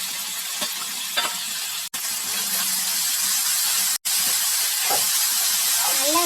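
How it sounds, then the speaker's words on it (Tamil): Chopped tomato sizzles and hisses steadily in a hot pan for a prawn dish, with intermittent scraping strokes of a spoon as it is stirred, close and loud. "நல்லா வதக்கிக்கோங்க."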